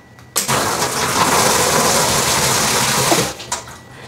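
A remote-controlled sensor water faucet runs in a steady, loud, continuous gush that starts abruptly and stops after about three seconds, followed by a few fading drips and splashes.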